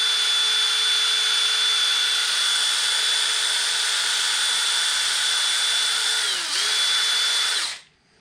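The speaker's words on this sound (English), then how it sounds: "it's brass, and I'll chuck it up in a drill" A power drill spinning a brass wire brush whines steadily at high pitch for several seconds, dipping briefly near the end before spinning down and stopping.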